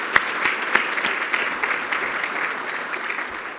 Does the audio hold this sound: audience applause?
yes